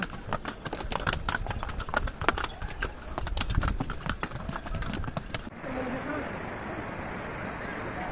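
Horse hooves clip-clop steadily as a horse carries a rider up a steep, winding mountain path toward the Yamunotri shrine in Uttarakhand; the hoofbeats are brisk and close for about five seconds, then give way to a rushing, hissy wash of outdoor noise.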